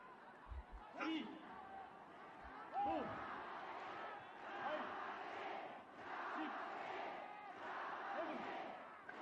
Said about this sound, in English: Crowd is chanting for Yamasaki, the definite fan favorite in this match.